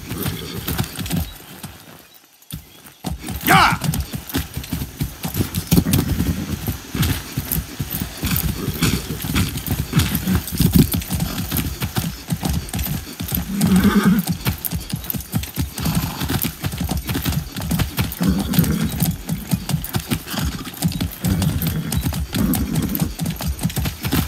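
Horse hooves pounding in a rapid, continuous gallop in the video game Far Cry 6, a dense rhythmic clatter running nearly throughout with a brief pause early on.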